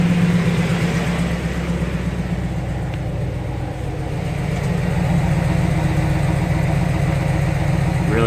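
A GM car engine with a misfire idles steadily with a low, even rumble and faint vibration, no revving, running alone.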